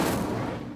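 An Incendio fire spell is cast in Hogwarts Legacy, a single loud, blasting burst of fiery noise that fills the moment and fades slightly at the end.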